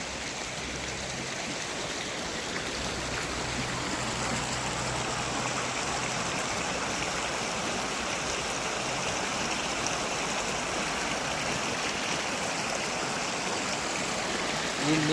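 A river rushes past close by, its water flowing in a dense, unbroken roar that stays loud and steady for the whole stretch, with no one speaking.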